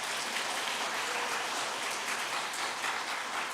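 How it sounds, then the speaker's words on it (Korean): Applause from a church congregation for a combined generational choir at a Thanksgiving Sunday service, a dense steady patter of many hands clapping at moderate level throughout, with no talk over it. "우리 세대 연합 찬양대를 위해서 크게 한번 박수 주시기를 바랍니다"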